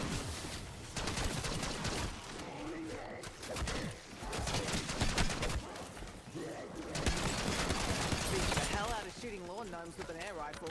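Rapid air rifle shots ring out in a zombie-fighting video game, cracking repeatedly amid busy game noise and effects while a voice talks over them.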